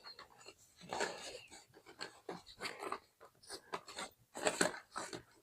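Zippers on a hornet protection suit are pulled closed, with a series of close, quick rasping strokes in irregular bursts.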